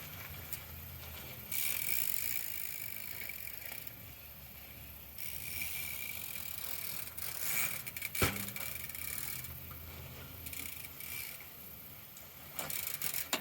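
A bicycle lands with both wheels at the same time after a jump: the freewheel ticks and clicks throughout, and one sharp, loud thump hits near the end.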